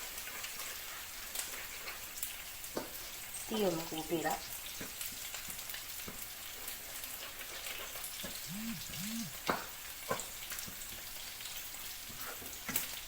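Egg seasoned with salt fries in a pan while being stirred, a constant soft sizzling crackle with occasional scraping taps, as a voice speaks briefly over the cooking noise.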